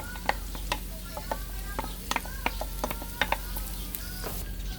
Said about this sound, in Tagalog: Gagamit lang po tayo ng konting mantika sa pagpiprito po ng bawang.